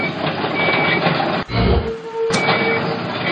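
A bulldozer in a children's video game gives out a steady run of electronic reversing-style beeps over a dense mechanical drone. The sound cuts out briefly partway through, then resumes.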